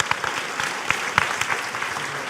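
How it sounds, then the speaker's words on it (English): Applause rings out for the panelists at the Asia-Pacific circular economy forum, a steady spread of hand claps from a conference audience with a few sharper individual claps standing out. "Please give a big round of applause to Charles"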